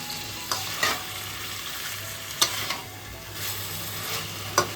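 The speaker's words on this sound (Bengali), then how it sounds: "কড়াইতে তেল ভেসে উঠেছে। চিকেনটা আমাদের খুব ভালোভাবে কষানো হয়ে গেছে।" Chicken pieces sautéed with oil in a kadai (wok) for pineapple chicken sizzle steadily up close, broken by several sharp scraping stir strokes spaced irregularly across the stretch, with no talk.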